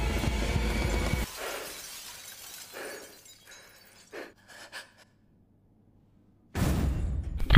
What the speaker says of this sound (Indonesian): seluruh kaca yang terpasang di jembatan dihancurkan sehingga serpihan kaca